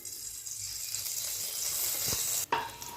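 Hot oil sizzling steadily in a kadai before bay leaves and five-spice seeds go in, a continuous close hiss with a brief dip near the end.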